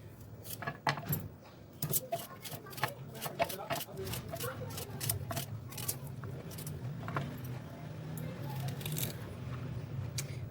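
Garlic cloves and ginger being chopped with a knife for beef naan, a run of quick sharp taps on a board that thins out into scattered knocks over a low background hum.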